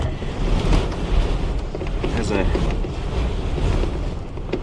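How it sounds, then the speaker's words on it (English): Strong winter wind gusts pound a parked truck at a cold solo camping spot, a heavy rumbling roar that swells and eases in surges across the whole stretch, with a voice briefly speaking beneath it. "massive gusts of wind just keep abominating this vehicle"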